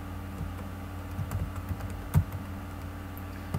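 Someone types on a computer keyboard in a quiet room, a light irregular patter of keystrokes with one louder key press partway through.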